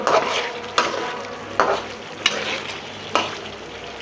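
A rohu fish head fries in a pan as stem greens go in and are stirred, with a steady close sizzle broken by sharp scraping strokes roughly every second.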